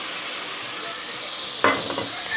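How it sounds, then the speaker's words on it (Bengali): Turmeric and dried red chili paste frying in a pan, a steady soft sizzle with a brief louder spatter and stir partway through. "আমি এবার হলুদ আর শুকনো লঙ্কা বাটা দিয়ে দিচ্ছি তুলে একসাথে।"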